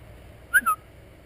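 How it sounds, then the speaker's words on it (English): Two short, quick whistle toots, faint and a little distant, against quiet outdoor background. "I'm going to blow this whistle."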